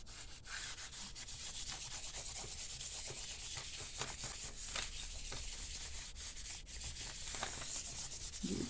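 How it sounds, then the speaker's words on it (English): Chalk is rubbed over good paper with a steady, continuous scratchy rubbing that stays close and fairly quiet throughout, with no voices. "I'm going to rub chalk all over."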